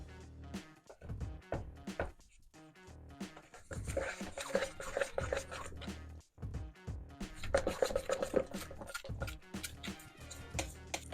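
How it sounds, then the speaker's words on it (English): A spatula scrapes around the sides of a container while silicone is mixed, giving repeated soft rasping and tapping strokes in an uneven rhythm, close and fairly quiet. "Making sure I'm scraping the edges."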